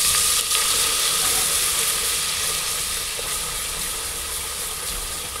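Onion and coconut masala sizzles steadily in hot oil while being sautéed for a mutton curry, a dense continuous frying hiss with faint stirring scrapes, close and fairly loud throughout with no talk.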